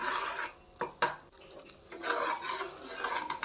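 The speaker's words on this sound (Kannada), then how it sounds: "ಸ್ವಲ್ಪ ಕಡಿಮೆ ಮೀಡಿಯಮ್ ಫ್ಲೇಮಲ್ಲೇ ನಾನಿವಾಗ ಚೆನ್ನಾಗಿ ಮಸಾಲೆನ ಫ್ರೈ ಮಾಡ್ಕೊಳ್ತಾ ಇದ್ದೀನಿ" Masala frying in a pan over medium flame, with a spoon scraping and stirring in irregular strokes and a few louder knocks against the pan, close but fairly soft.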